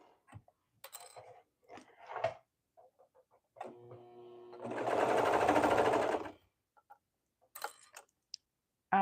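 A sewing machine stitches a dress in one steady burst of about two seconds, preceded and followed by scattered clicks and handling noises of fabric being positioned.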